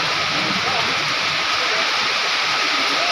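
Dense, steady hissing roar of heavy storm rain pours without a break, broadband and constant, with a faint voice murmuring underneath, during a storm that flooded a house in Thailand.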